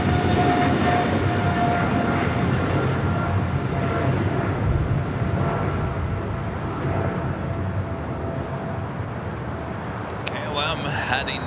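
A KLM airliner arriving at LAX roars past as a loud, broad jet rumble, steady and close, easing slightly toward the end.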